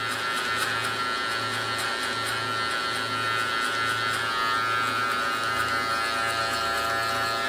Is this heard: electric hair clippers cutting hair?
yes